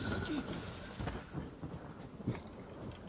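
Rain and thunder from a spell cast in the video game Divinity: Original Sin, with a steady wash of rain and several dull, rumbling thunder strikes rolling through at moderate loudness.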